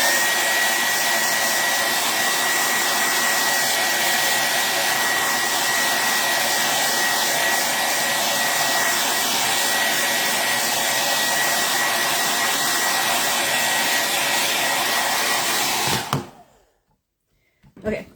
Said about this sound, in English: I'm going to turn the blow dryer on now